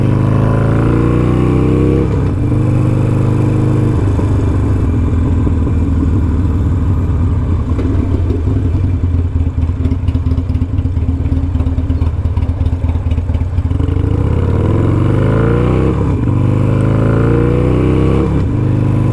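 A 2022 Triumph Bonneville Bobber motorcycle engine drones loud and steady while riding, its pitch rising and falling through gear shifts with clattering mechanical texture and no talk.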